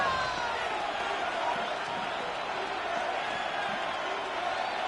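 A stadium crowd roars on third down at a Rams vs Bears football game, a dense, steady wall of noise that stays loud throughout.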